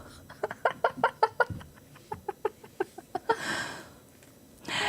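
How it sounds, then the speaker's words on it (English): A rubber chicken sound effect gives a rapid run of about a dozen squeaky, clucking squawks in a rhythmic burst, followed by a longer hissing wheeze and another short squeal, close and fairly clear. "You get 3 rubber chickens for your attempt."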